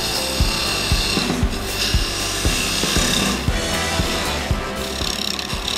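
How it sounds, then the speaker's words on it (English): Wood lathe turning a tapered coffee table leg, a steady rasping, scraping hum of the tool on spinning wood with repeated sharp clicks and knocks throughout, loud and continuous with no talking. "this was only my second time ever using the lathe"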